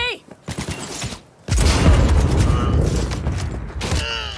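Sustained gunfire bursts in the game Cyberpunk 2077 during a firefight with a sniper behind a van, loud and dense after a brief pause, with voices shouting over the start and the end.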